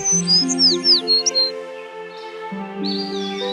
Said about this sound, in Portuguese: De manhã, Branca de Neve acordou com pássaros cantando e muitos animais à sua volta